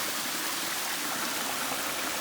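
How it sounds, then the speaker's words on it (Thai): A steady, dense rush of falling water from the Ari Doi waterfall at Pha Nok Khao fills the air with constant hissing noise, no breaks or other sounds standing out. "อันนี้คือน้ำตกส่วนตัวหลังบ้าน"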